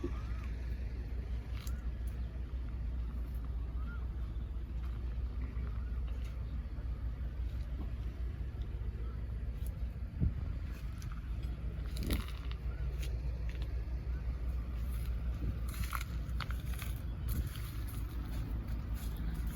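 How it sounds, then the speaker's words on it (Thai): A XCMG 135B excavator sits with its engine left idling in hot weather, giving a steady low rumbling drone throughout, with occasional faint clicks and knocks over the top. "ทีมงานเราก็ไม่ดับเครื่องเลยนะคะ อากาศร้อน ติดเครื่องนอนพักสบายเลยทีนี้"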